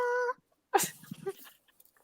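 A person makes a short, tonal meow-like cry imitating a cat, then a brief burst of breathy, sputtering vocal noise follows.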